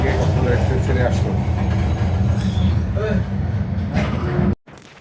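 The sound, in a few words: Cox's Bazar Express passenger train running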